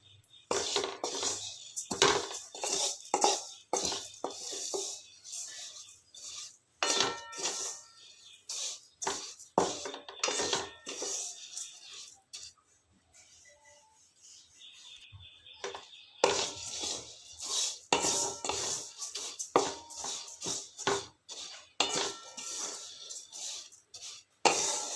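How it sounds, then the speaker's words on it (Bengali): Cumin seeds dry-roasting in a pan on low flame, stirred constantly, give repeated scraping and rattling bursts of the spatula and seeds, close and fairly loud, with a brief quieter pause midway. "এইভাবে ওপর নিচে করে ভেজে নিলে তাহলে প্রতিটা জিরেই ভালো করে ভাজা হয়ে যাবে"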